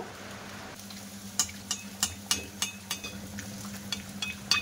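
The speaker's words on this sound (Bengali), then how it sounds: "এবার আমি পুরিগুলো দিয়ে দেব" Potato puris fry in hot oil in a wok, a faint background sizzle marked by a series of sharp clinks and scrapes of a utensil against the pan at an uneven rhythm, with no speech.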